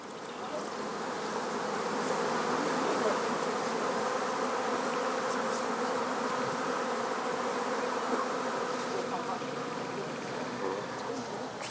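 Honey bees buzz in a dense, continuous swarm hum at a steady level near hives kept by roadside beekeepers, with no break in the droning throughout.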